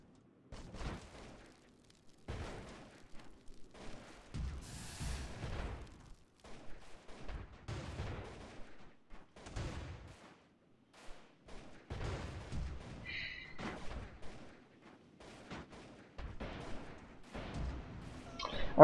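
Repeated cannon fire from an airship in the video game Airships, sharp booming shots in irregular bursts separated by short quiet gaps, with a few overlapping volleys, moderately loud and without talk.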